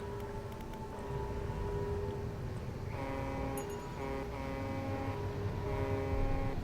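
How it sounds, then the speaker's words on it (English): A loud video-game horn drones in long sustained tonal blasts, starting and stopping in a few separate pulses over a continuous low rumble. "Alright, time to turn on the horn."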